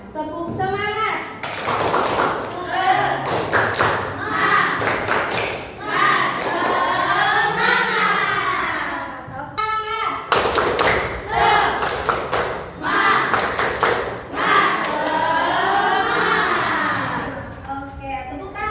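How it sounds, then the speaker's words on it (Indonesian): A classroom of children performs the rhythmic 'tepuk semangat' clapping routine, with bursts of patterned hand claps and thuds in two rounds, mixed with the children's chanting voices. "Tepuk semangat."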